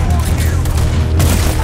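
Gunfire in the video game Red Dead Redemption 2: a dense, booming burst of shots over a continuous low rumble, with a sharper crack near the end, loud and close.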